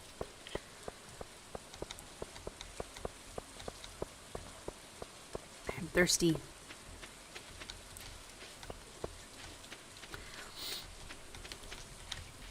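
Steady patter of rain in the Stardew Valley farming game, a soft continuous hiss with dense drop ticks throughout, a brief louder burst near the middle and a faint line of speech.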